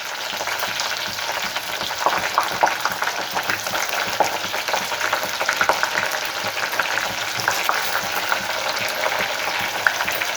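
Onions and dried red chillies fry in hot oil for a gongura chana dal curry, giving a steady, dense sizzle with small crackles and pops throughout, close and fairly loud, with no talking.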